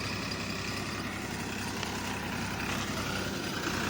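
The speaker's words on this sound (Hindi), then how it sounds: "तो गाइस ट्रैक्टर वो चला गया" A farm tractor's engine rumbles steadily at a moderate distance as it pulls away, a continuous low drone with broadband noise and no speech.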